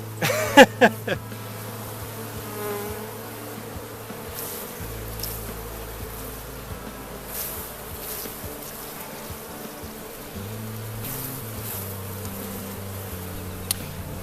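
A steady, dense buzz of many honey bees being shaken from a hive frame at harvest fills the whole stretch, with a few sharp knocks near the start.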